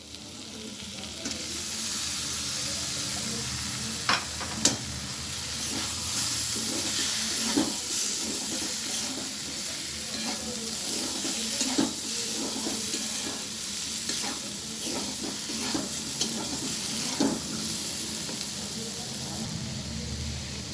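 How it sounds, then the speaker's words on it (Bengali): Fried bakhari potato pieces drop into spices frying in a pan for a chickpea curry, giving a steady close sizzle and hiss with occasional stirring scrapes and clicks throughout. "নিয়ে আমি এবারে ভেজে রাখা বাখারিটা দিয়ে দিচ্ছি"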